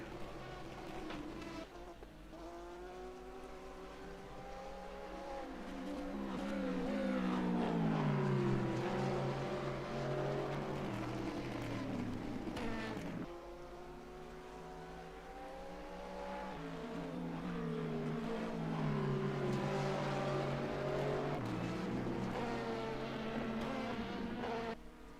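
Race car engines, including a Ferrari, in a sim racing endurance event at Spa-Francorchamps heading toward Blanchimont: buzzing, high-revving engines climb and fall in pitch through gear changes, close and sustained.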